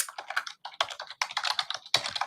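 Rapid typing on a computer keyboard, clustered bursts of light clicky keystrokes with brief pauses between words, close and moderately loud with no talking.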